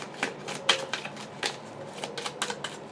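A tarot card deck with gold-trimmed edges is shuffled close by, its cards riffling and slapping in quick, uneven bursts over about three seconds, with no talking.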